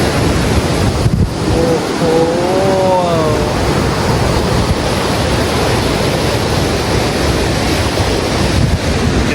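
Ocean waves surge and crash steadily at a rugged, dangerous stretch of Kerala shore near the Kavvayi backwaters. The roar is loud and continuous, mixed with wind buffeting the microphone, and a brief voice exclaims once.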